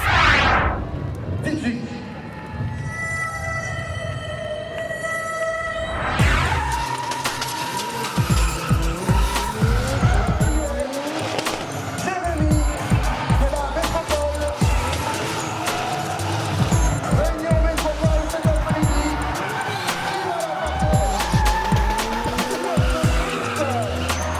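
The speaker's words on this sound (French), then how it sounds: "L'animation vedette du salon, c'est le drift avec Jérémy Mérires" Cars drifting at a motor expo show, tires squealing and engines revving loudly in repeated bursts, with crowd noise and music-like tones early on and voices mixed throughout.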